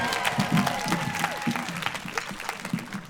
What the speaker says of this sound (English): Can we get a big round of applause for her